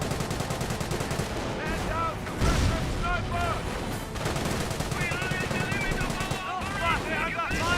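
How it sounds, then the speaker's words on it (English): Mortar impacts and sustained gunfire in the strategy game Company of Heroes, with booming explosions and rattling machine-gun bursts forming a dense, continuous battle din, voices faintly mixed in. "Great mortar hit there."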